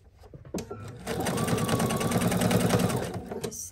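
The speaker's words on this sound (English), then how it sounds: "Just sew down this line all the way down the row" A sewing machine runs steadily, stitching rows of a peekaboo quilt with a fast, even mechanical whir that starts after a brief pause and continues close up to the end.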